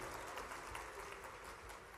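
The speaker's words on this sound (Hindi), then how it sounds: "आप ताली बजाते जाना जोरदार" Applause from a crowd at an outdoor public event in Khargone where a Chief Minister inaugurates development works, a steady dense wash of clapping sustained throughout without pause.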